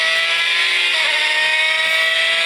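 A gated manual V12 supercar engine holds a steady, loud rev, a bright sustained howl with no voices over it and only slight pitch wavering.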